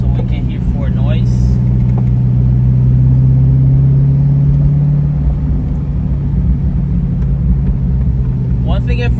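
A Corvette fitted with new Cook's headers and an X-pipe exhaust runs at a steady idle, a loud, deep and constant rumble throughout, with brief voices near the start and end.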